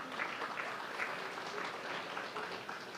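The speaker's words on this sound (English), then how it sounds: "You could give them a round of applause." A crowd applauds steadily at the opening ceremony of the Gran Chemin fishing centre in Moruga, a sustained, even patter of many hands clapping for the full few seconds.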